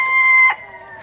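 Young roosters among baby chicks, a single short high-pitched chirping crow lasting half a second, close and clear, then quiet.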